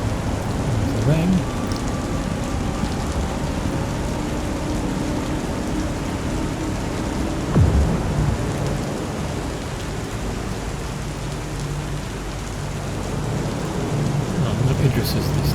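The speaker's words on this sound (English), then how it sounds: "It's like just entering another world with the weather." Steady heavy rain and a low rumble of thunder fill a Star Citizen planetside storm, a dense continuous wash with one louder thunder roll midway.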